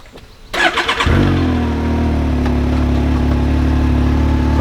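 Can-Am Maverick X3 with aftermarket exhaust and the valve open, cranking briefly then firing up and settling into a loud, steady, deep idle close by.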